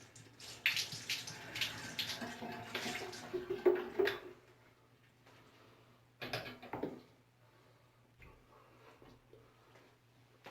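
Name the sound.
rinsing a shaving brush with bottled water over a sink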